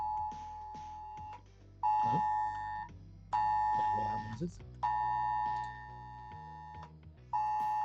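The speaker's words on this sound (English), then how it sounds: "Oh, that's my phone." A UK government emergency weather alert blares from a phone in loud, sustained tone bursts with short gaps, while a person speaks briefly in between.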